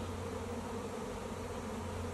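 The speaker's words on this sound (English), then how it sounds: "today the swarm is moving in" A honey bee swarm pours into a swarm trap hive, making a dense, continuous buzzing hum that stays loud and steady throughout, with no voices.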